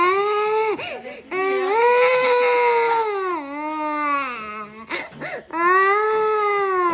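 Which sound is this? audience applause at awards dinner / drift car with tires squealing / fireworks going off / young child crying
young child crying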